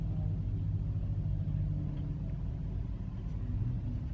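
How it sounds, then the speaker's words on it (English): A car backing up nearby in a parking lot, its engine a steady low rumble close by throughout, with no voices. "What is this car doing?"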